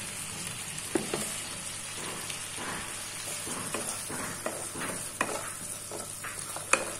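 Biryani mixture with a little ghee sizzles steadily in a pan while being stirred, with soft scraping clicks and occasional sharper spoon taps over a constant frying hiss, close and moderately quiet, no talking.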